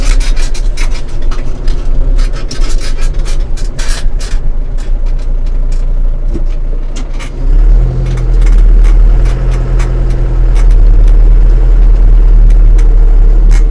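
A repaired Lovol 504 tractor engine runs steadily and loudly up close, a deep continuous drone with scraping and rattling noises on top, the pitch shifting slightly as it carries on for the whole stretch.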